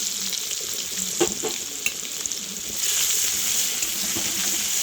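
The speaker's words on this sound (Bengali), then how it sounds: "দিয়ে দিচ্ছি থেতো করে রাখা রসুনগুলো।" Crushed garlic sizzling in hot oil in a pan, cooking for kochur loti with shrimp; a steady fry with a few sharp pops, the sizzle swelling louder partway through, no voices.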